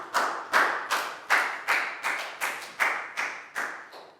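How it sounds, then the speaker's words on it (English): A Year 4 health class claps for a classmate, sounding as about eleven sharp, evenly spaced claps in a slow steady rhythm, close and distinct with no talk. "Round of applause for Nadia"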